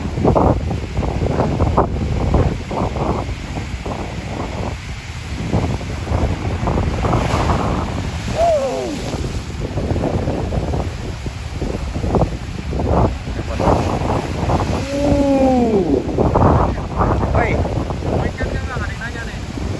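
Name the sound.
high sea waves and wind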